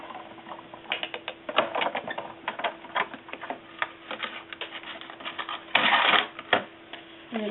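A hand-cranked die-cutting machine feeds a card sandwich through its rollers, giving off a fast run of clicking, rattling mechanical ticks with a brief louder grinding burst near the end, close and fairly quiet.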